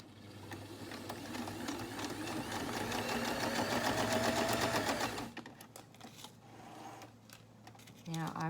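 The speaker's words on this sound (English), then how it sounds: "I'm going to be stitching from here across like this." A sewing machine stitches fabric in a fast, even mechanical whir for about five seconds, then stops, leaving quieter handling noises and a brief clunk near the end.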